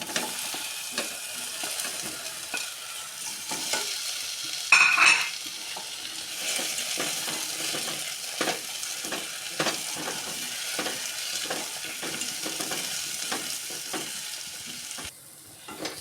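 Chopped ripe plantain (ethapazham) fries in a pan with a little ghee, a steady soft sizzle throughout with frequent scraping stirs of the spoon, close and fairly quiet, with no talking.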